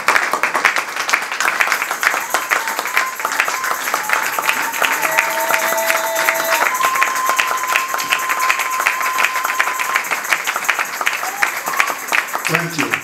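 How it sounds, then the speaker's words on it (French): Church congregation clapping during a seminar, loud sustained applause from a full room that carries on evenly for a long stretch, with voices and a held tone heard under the clapping. "I want you to clap for Jesus."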